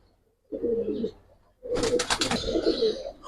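Tota pigeons, a shape likened to a parrot, coo in two close bursts separated by a short pause, the second longer and accompanied by wing flutter or rustling.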